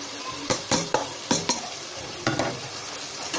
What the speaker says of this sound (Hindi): इसको अब हमने इस मसाले में अच्छी तरह से फ्राई करना है